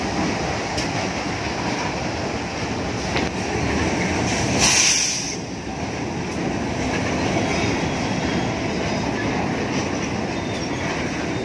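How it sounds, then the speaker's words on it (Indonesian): A long Pertamina tank wagon freight train hauled by a CC 0646 locomotive rolls into Bangil station, a steady close rumble of wagons with clattering wheels and brief high squeals. "Kereta api Ketel Pertamina dari Benteng masuk stasiun Bangil."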